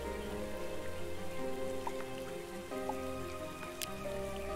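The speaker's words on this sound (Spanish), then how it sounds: "no hace falta porque está lloviendo" In Starbound, rain falls as a soft, continuous patter with a few scattered droplet ticks over a low, steady game backdrop. The sound is quiet and unbroken.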